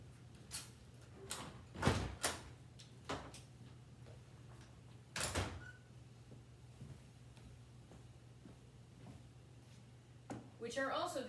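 Large, grand wooden doors of a historic house on Amelia Island are closed, giving several sharp knocks and thuds at irregular intervals, with one heavier bang midway, under a quiet room hum.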